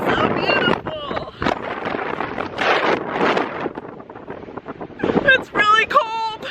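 Wind gusts across an open, cold Irish landscape near a waterfall, a steady broadband rush buffeting the microphone throughout, with people chatting over it and a brief bird-like chirp near the end.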